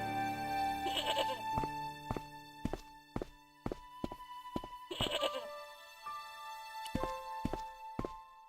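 Goat bleats in the point-and-click adventure Broken Sword: Shadow of the Templars, two loud wavering bleats punctuated by a rhythm of hard footstep-like thunks against a clean, quiet background.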